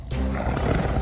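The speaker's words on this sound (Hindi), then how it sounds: "बाघ बाघ बाघ" A tiger roars loudly and continuously for about a second in a dramatic historical scene, a deep, rumbling roar heard close up.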